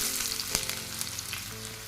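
Onion pieces and curry leaves frying in oil for a tempering for dahi vada, a loud continuous close sizzle with a few sharp pops and no voices.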